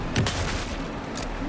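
Rapid bursts of gunfire from the video game Alan Wake 2, crackling in quick volleys over a dense, rumbling game soundscape.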